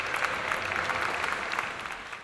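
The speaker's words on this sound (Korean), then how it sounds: "나가 잘생겨서 박수 한번 보내보시오" Applause from an audience at a comedic stage show, a brief steady patter of many hands at moderate distance, fairly faint and continuous.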